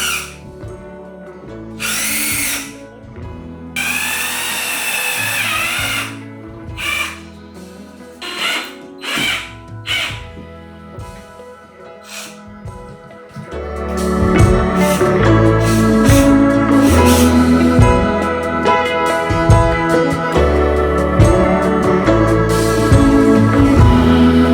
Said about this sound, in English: I'm gonna try drilling a hole to the stud first.